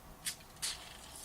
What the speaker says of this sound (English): just take a spray, a little bit on your finger